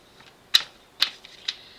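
A few crisp tarot card slaps and riffles during shuffling, three sharp snaps spaced about half a second apart, close by in an otherwise quiet room.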